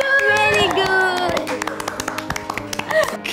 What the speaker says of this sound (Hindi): हमारा स्वागत तालियों के साथ किया जा रहा है।